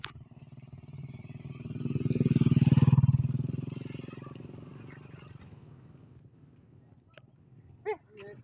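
Motorcycle engines pass on a road during a barangay fiesta in Leyte, one rising to a loud close pass around the middle and then fading, with background chatter and brief sharp noises near the end.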